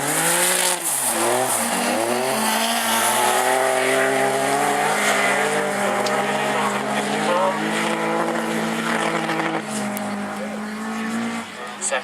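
A supercharged Volvo V6 autograss race car screams at high revs as it passes nearby during an autograss race meeting, its pitch dipping and climbing with gear changes and throttle, loud throughout.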